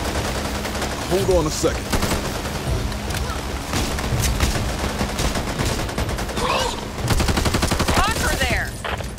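Repeated shotgun blasts and gunfire in the zombie shooter Back 4 Blood, dense and loud throughout, mixed with game noise and a voice speaking briefly.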